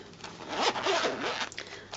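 The zip pocket of a pocket-size Filofax planner is drawn open in one close, scratchy pull lasting about a second, followed by a brief clicking tug on the slider.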